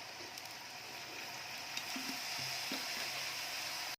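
Boiled rice with a little light soy sauce fries in a pan for prawn egg fried rice, a soft continuous sizzle broken by a few light clinks of utensils.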